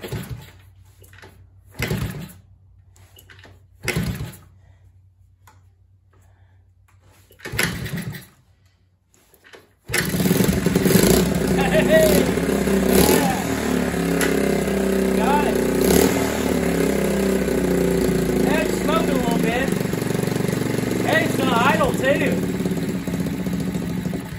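A 1971 Honda CT70 motorcycle is kicked over several times with brief sputters and silences, then the small engine catches and runs unevenly, trying to idle, with someone talking over it.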